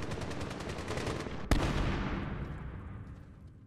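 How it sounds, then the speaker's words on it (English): Sustained AK rifle gunfire in the Medal of Honor shooter game, a rapid steady stream of shots, then one sharp, loud crack with a long echoing decay that trails off. "You hear that? That is an AK fire."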